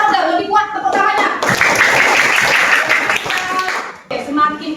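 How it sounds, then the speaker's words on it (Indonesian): Students in a classroom clap for a group in a loud, dense burst of applause lasting a few seconds, with a person talking before and after it. "Give applause louder. Lebih kuat tepuk tangannya."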